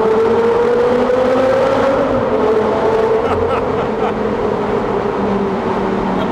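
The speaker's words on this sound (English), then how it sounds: "Let's just try third gear." A 2012 Audi R8 GT Spyder pulls hard in third gear, its engine roaring loudly and steadily as the pitch climbs and then eases slightly, heard close with some wind and road noise.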